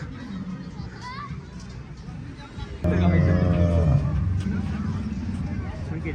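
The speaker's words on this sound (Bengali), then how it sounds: "কিন্তু ডাইনোসরটা ডাকতেছে গরুর মতো।" A dinosaur model in Safina Park, Godagari, Rajshahi, lets out a long, loud cow-like mooing call over an outdoor crowd babble, with people talking nearby throughout.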